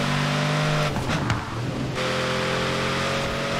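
Pagani supercar engine in the racing game Forza Horizon 4, a steady loud drone with a brief gear shift and pitch change midway, then holding a high constant note, no talk.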